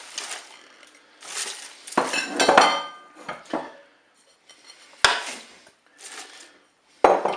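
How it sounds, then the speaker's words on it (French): Cabbage and potatoes drop into a Cookeo multicooker pot in several bursts of rustling and clattering, with utensil clinks against the metal bowl and short quiet gaps between, close and with no speech. "Je vais rajouter mes légumes, le chou et des pommes de terre."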